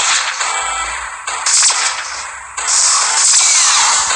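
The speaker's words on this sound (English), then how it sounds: "The shotgun pistols has sound change when it loads." Shotgun pistols reload in the mobile shooter game Pixel Gun 3D: loud, close bursts of harsh, whooshing mechanical clatter repeat in quick succession with no talking.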